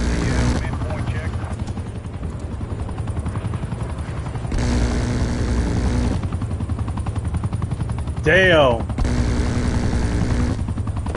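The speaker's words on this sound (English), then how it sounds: "Helicopter, light them up." A helicopter in a Call of Duty multiplayer match on PS5 drones with a steady, loud rotor chop, overlaid by bursts of gunfire and radio voice chatter.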